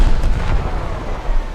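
Tank cannon fire from the XM8 light tank in War Thunder: a loud, low boom with rumbling, noisy decay that fills the short stretch, with no voices.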